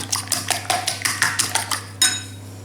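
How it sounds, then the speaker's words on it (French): A utensil clinks rhythmically against a bowl while grated cheese is mixed into a quiche filling, a quick series of sharp scraping taps close up over a low steady hum. "Et je vais mélanger tout ça pour en faire un appareil"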